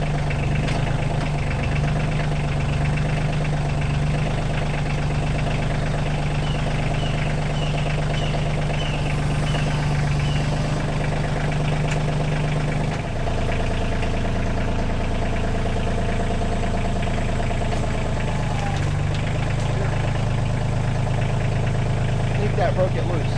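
Kioti CK2610 compact tractor engine runs steadily through, its pitch shifting partway as the tractor pulls out from under a detached backhoe; loud, continuous and close.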